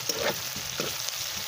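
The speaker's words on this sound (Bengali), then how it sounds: "পেঁয়াজ লঙ্কা দিয়ে দিয়েছি, আর হালকাভাবে ভেজে নিই।" Onions and green chillies frying lightly in a pan for chicken Hakka noodles, a steady soft sizzle with a few stirring scrapes, near and fairly quiet, no talking.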